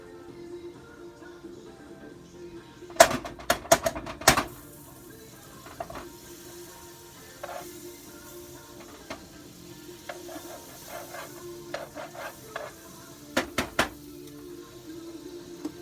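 Home fries cook in butter in a pan with a faint, steady low sizzle, punctuated by scattered clattering scrapes of a utensil turning them, close and fairly quiet.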